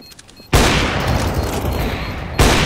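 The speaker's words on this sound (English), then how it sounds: "Shoot through the wall. Shoot through it." Gunfire in CS:GO shot through a wall on Dust 2, a sudden loud burst of rapid automatic fire that rings out for nearly two seconds, followed by another abrupt loud shot at the end.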